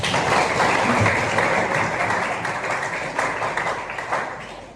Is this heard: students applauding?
yes